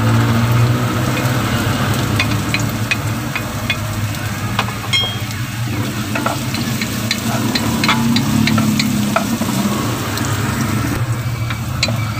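Garlic and onion sautéing in a pan, a loud constant sizzle with scattered stirring clicks and a low hum beneath, close and continuous without talk.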